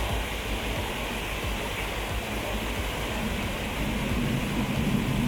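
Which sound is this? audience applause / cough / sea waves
sea waves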